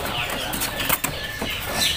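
A white-breasted kancer songbird in a bird-market kiosk flutters its wings in a short, faint burst of soft flapping.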